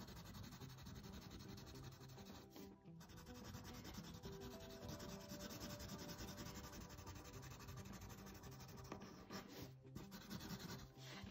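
A pencil scratches lines on paper while drawing, a faint, close, continuous soft rasp with small pauses and no talk.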